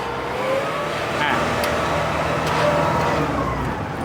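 A used 2011 Kubota L3408DI tractor engine revs in a steady, loud, close drone that swells gently and holds without a break, with people talking faintly underneath.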